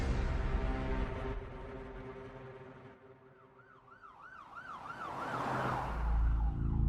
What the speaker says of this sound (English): the Nice police, Philippe Frison, pulled up to the hospital with the sirens on.